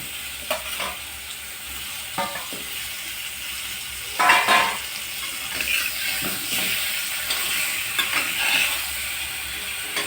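Sweet potato slices are lowered into very hot oil in a kadhai, bringing a continuous close sizzle broken by several louder bursts of bubbling and spattering as pieces go in.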